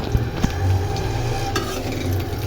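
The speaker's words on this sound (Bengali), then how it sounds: "এখন তেল গরম হয়ে গেছে আমার কালা কড়াইতে এখন একটু ভেজে নিব" Fish bladder frying in hot oil in a black wok, a steady close sizzle with a few sharp pops and scraping stirs near the start.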